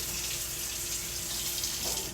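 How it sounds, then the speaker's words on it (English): Tap water pours into a bucket to fill it with filtered water, a steady, full rushing stream that runs unbroken and close by, with no voices. "we're going to fill this up about halfway with the filtered water"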